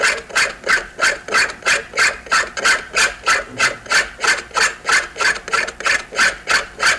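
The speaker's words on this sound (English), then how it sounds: "you hear that shrill scraping sound, you know that someone is scraping at 90 degrees" A cabinet scraper worked across a wooden board rasps in steady back-and-forth strokes, about twenty shrill, chattering scrapes in an even rhythm, close and loud with no one speaking.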